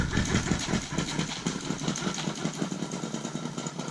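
A small motor fitted to a bicycle runs with a rapid, buzzing two-stroke-like putter, steady and close, holding an even pulsing rhythm throughout with no talk.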